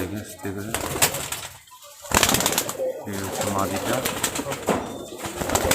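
Rajshahi high flyer pigeons in a loft, several birds cooing and calling close by with occasional wing flutters, under a steady outdoor background and intermittent talk.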